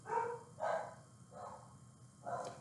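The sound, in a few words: dogs barking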